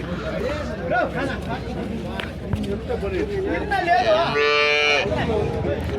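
Punganur cows low and moo at a busy cattle market, one loud drawn-out moo standing out near the end over steady crowd chatter and people talking close by.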